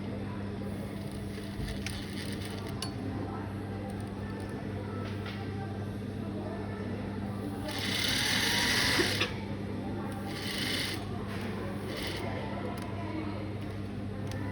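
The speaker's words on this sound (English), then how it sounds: "Make sure you do a reverse stitch." A sewing machine stitches a side seam pocket, a steady low motor hum running throughout with a brief louder whirring burst partway through.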